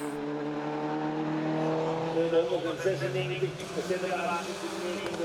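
Audi touring race cars battle for position on a TCR Benelux circuit, with engine roar and passing cars heard under steady commentary.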